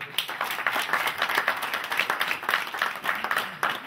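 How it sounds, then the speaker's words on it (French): Audience applause at a golden wedding anniversary celebration in a French town, dense steady clapping from a crowd that continues throughout without talk. "Là, on peut les applaudir."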